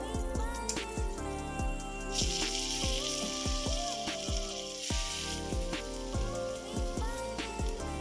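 Squid sizzles and spits as it fries in hot oil, a steady loud crackle with sharp pops through the whole stretch and bursts of brighter hiss, no talking.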